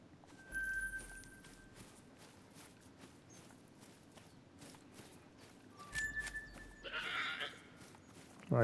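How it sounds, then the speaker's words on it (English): A goat bleats loudly on a Scotland farm among other livestock, the calls rising out of steady outdoor background noise with a louder burst near the end. "take a look at this yelling goat"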